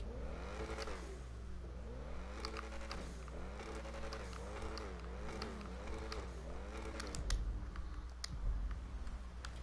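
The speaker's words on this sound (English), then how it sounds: "Let's check out the exhaust sound." Exhaust of the XA21 car in a video game revving repeatedly, engine pitch rising and falling in steady waves with a low constant rumble and some clicking noises over it.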